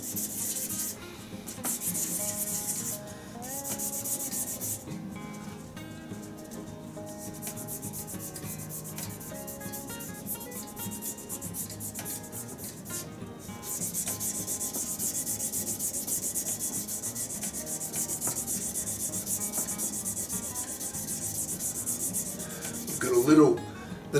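An epoxy resin shaving brush handle is sanded by hand with sandpaper through progressively finer grits, producing a continuous close scratchy rubbing in repeated strokes, with brief pauses and a louder scrape near the end.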